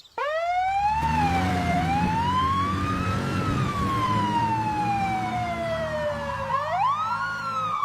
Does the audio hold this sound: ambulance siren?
yes